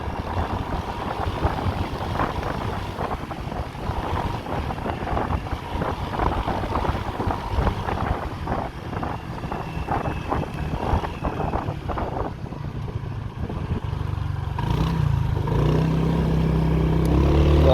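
Honda PCX 150 (KF12) maxi scooter engine pulling steadily under acceleration while riding, a continuous drone mixed with heavy wind buffeting, easing toward a steadier tone near the end.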